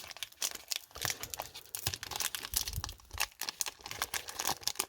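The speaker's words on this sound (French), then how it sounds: "Je pense qu'on va galérer pour ouvrir comme d'habitude." Crinkly plastic foil of a Pokémon booster pack from the Flamme Blanche tripack, crumpled and torn open in close, busy bursts of crackling and ripping with no voices.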